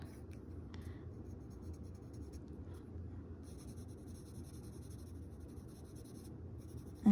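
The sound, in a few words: pencil drawing smiley faces on paper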